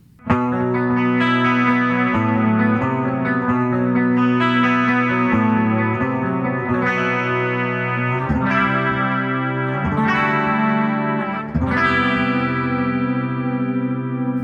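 Bridge pickup of an Abasi Concepts EMI Legion electric guitar, heavily distorted, plays sustained chords and ringing notes that change every couple of seconds, loud and upfront with a lush, effected tone and no talking.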